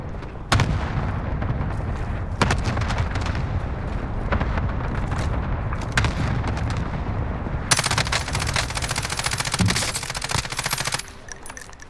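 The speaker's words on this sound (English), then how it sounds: "Allied cluster strike inbound" Loud, dense barrage of cluster strike explosions and rapid gunfire in Call of Duty, sustained blasts rolling continuously with sharp bursts throughout, intensifying near the end.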